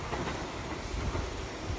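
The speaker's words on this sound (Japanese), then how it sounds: "あ、電車走ってるわ。" A Keihan electric train runs past near Ryukoku University station, a steady close rumble with clickety-clack wheel rhythm filling the whole short moment.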